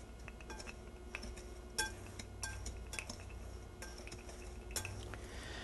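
Utensil scrapes and clinks against a bowl as sifted cocoa powder is stirred into dry ingredients for a triple chocolate pound cake, a run of quiet close taps and scratches without talk.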